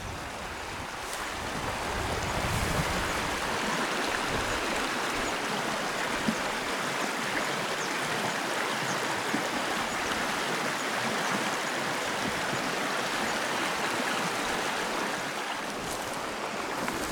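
A small stream in the Oymyakon area, checked for grayling, flows with a steady broadband rush of water, continuous and fairly close, with some wind noise mixed in and no talking.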